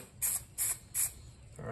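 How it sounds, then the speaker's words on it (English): A spray paint can gives three short, sharp test bursts in an even rhythm, each a hissy spritz with a slight spitting texture, close and fairly quiet, with a fourth burst starting at the end. "do a little test spray first to make sure it sprays all right"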